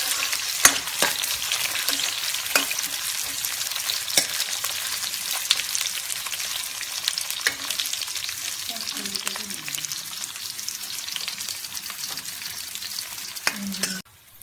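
Onions frying on a low flame for a sambar, sizzling steadily throughout while a spoon stirs them with periodic scraping knocks against the pan, no talking.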